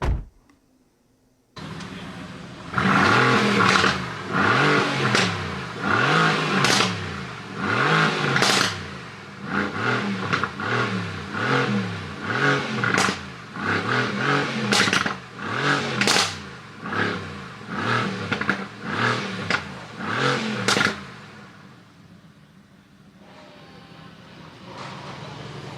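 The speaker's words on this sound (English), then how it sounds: "that was the car sound of the AMG GTR" A 2017 Mercedes-AMG GT R, heard from inside the car as the engine fires up and revs repeatedly in loud, rising and falling bursts, followed by a quieter idle at the end.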